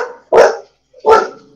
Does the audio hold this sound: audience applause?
no